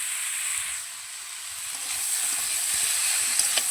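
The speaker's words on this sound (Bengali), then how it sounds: "ভালো করে একটু ভেজে কষিয়ে নেব" Boiled cabbage and spinach fry and get stirred in a pan, a steady loud sizzle running the whole time with faint scraping stirs, no talk.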